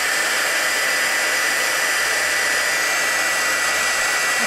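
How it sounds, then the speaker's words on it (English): A heat gun blows steadily at close range while melting embossing powder on a stamped image, a loud, even hiss of rushing air throughout with no talking. "taking my heat gun, I'm going to now heat the image so that the embossing powder melts"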